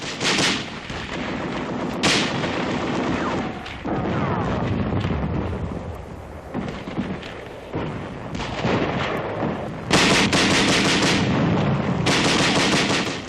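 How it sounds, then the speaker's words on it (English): Tanks and Bren light machine guns laying down supporting fire as British troops cross a canal in October 1944, heard as dense, continuous bursts of gunfire and heavy booms with several loud surges, no voices. "Tanks and Bren guns giving supporting fire."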